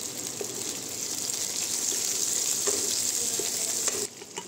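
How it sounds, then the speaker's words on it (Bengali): Capsicum fries in oil with garlic and ginger for chili chicken, a steady close sizzle with light stirring clicks, easing noticeably near the end. "এবার একটু ক্যাপসিকামগুলো হালকা করে ভেজে নেব।"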